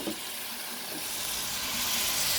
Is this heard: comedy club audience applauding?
no